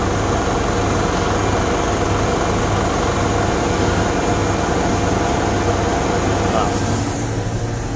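A Fendt 1167 tractor engine runs at steady high revs with a constant droning hum and mechanical rattle from a turning bag roller, loud and close throughout.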